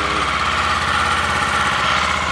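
A 2024 Kawasaki Eliminator 500cc motorcycle sits idling in neutral, its engine thrumming in a steady, close, low-pitched pulse with no talk over it.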